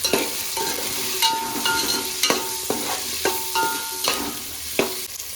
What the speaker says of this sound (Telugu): ఇప్పుడు దీంట్లో మనము ఈ చిట్టి ఉల్లిపాయలను వేసేసుకుందాం.